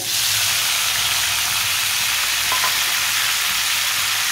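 Garlic and finely chopped tomatoes fry in a pan with a loud, steady, dense sizzle that continues without a break from start to finish.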